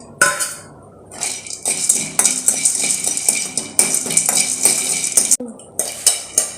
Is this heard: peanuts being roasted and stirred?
yes